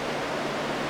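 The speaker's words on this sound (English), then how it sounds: "that noise you hear, that's the furnace cutting in." A furnace cutting in inside a dry shop, giving a steady, dense rush of blown air that fills the whole second evenly and closely, with no break or talking.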